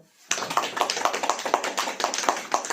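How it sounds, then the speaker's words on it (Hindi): A church congregation claps hands together in a rapid, steady rhythm of sharp, close slaps that starts abruptly and continues without talk. "ताली बजाओ।"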